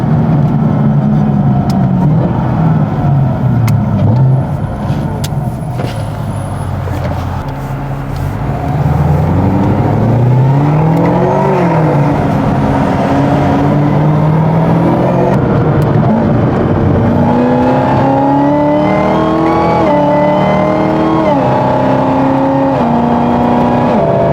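A 750 wheel-horsepower Chevrolet Camaro ZL1 roars through hard pulls, its engine note sweeping up and down with gear changes and revs, loud and continuous from inside the car with no talking.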